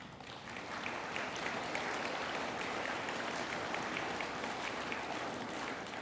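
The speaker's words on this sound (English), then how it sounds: "It's okay, you can clap." Steady applause from a sizable audience at a Veterans Day program, heard at a moderate distance as dense, even clapping that holds without a break.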